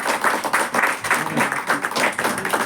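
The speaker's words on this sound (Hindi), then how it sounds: "सभी लोगों की तरफ से मैं चाहता हूँ एक बार जोरदार ताली से" Crowd applause at a Hindu religious gathering, a dense, steady wash of many hands clapping that swells in loose pulses and carries on throughout without any talk.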